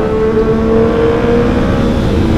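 Triumph Daytona 675 R sport motorcycle from 2016, engine droning steadily and loud while being ridden, a sustained even tone with no gaps across the whole stretch.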